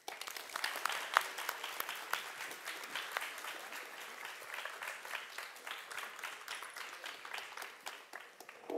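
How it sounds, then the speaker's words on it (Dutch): A studio audience gives a warm round of applause welcoming politician Hans Wiegel onto a Dutch talk show set, a steady wash of clapping with a few sharper claps, lasting the whole stretch. "graag een hartelijk applaus voor de heer Wiegel"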